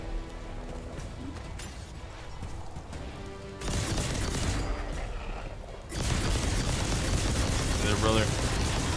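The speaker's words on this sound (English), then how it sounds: "I am so glad that we put together this full auto rifle." Full-auto rifle in the action RPG Biomutant, dense rapid fire that jumps louder twice into sustained bursts, with game effects and a voice underneath.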